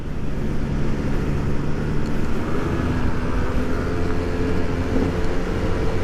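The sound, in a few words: misfiring motorcycle engine at wide-open throttle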